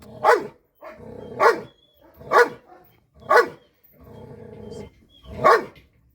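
A dog in bite training, facing a piece of cloth, gives about six sharp, close, loud barks with a gruff, growly edge and short pauses between them. No one speaks.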